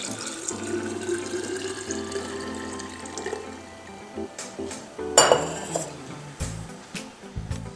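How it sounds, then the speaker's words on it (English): Grapefruit juice pours into a metal whipping siphon, a steady splashing trickle with a few sharp clinks of glass on metal near the middle and soft handling noises at the end. "Now we pour the grapefruit juice into the whipping siphon."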